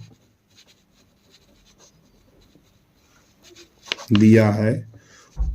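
Pen scratching across paper in soft, intermittent strokes during a Class 10 maths geometry solution, followed by a close voice speaking loudly near the end.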